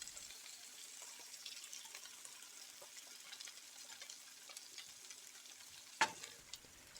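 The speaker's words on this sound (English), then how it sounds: "Then pour in a half cup of passata, which is strained uncooked tomato puree." Passata, a strained uncooked tomato purée, is poured into a sizzling frying pan while making a faked butter chicken. A steady close frying hiss runs throughout, with a brief sharper splash near the end.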